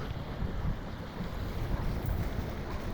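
Steady wind buffeting the microphone, a constant rough rumble with gusty swells, close and fairly loud, no voices.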